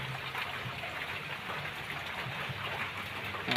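Steady rain falling on a farm with long bean vines, an even continuous hiss and patter without breaks, moderately quiet and unbroken by talk.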